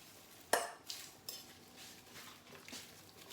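A marinade mixed with utensils in a bowl, giving a sharp metallic clink followed by a few softer taps and scrapes, close and alone against quiet room noise.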